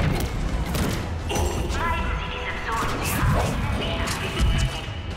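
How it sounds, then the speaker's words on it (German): A grenade explosion in Mass Effect 3 lands among dense crashing combat noise, with thumps, clatter and a booming hit toward the end, while someone talks over the action. "dann werfen wir mal eine Granate dahin"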